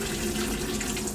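Bleach water pours off into a kitchen sink, a steady close splashing rush of water that holds even for the whole moment.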